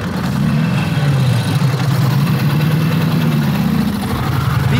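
An old Harley-Davidson motorcycle engine, left sitting for over 50 years, runs steadily with a deep, loud, continuous low rumble and even throb throughout, with no voices over it.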